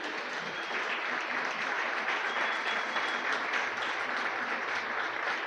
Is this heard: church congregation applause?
yes